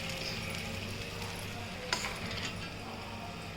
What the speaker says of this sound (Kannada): ಎಣ್ಣೆ ಮೊದಲೇ ಕಾಯಕ್ಕಿಟ್ಟಿದ್ವಲ್ಲ ನಾವು, ಅದು ಕಾದಿದೆಯಾ ಅಂತ ನೋಡಿ ನೀವು. ಈ ಥರ ನಿಧಾನವಾಗಿ ಈ ಸ್ಟಿಕ್ಕನ್ನು ಅದರಲ್ಲಿ ಬಿಟ್ಬಿಡಿ